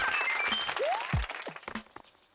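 Short burst of clapping applause in the New Super Mario Bros. Wii video game, a bright crowd-like flurry over cheerful game sounds and effects, fading out after a couple of seconds.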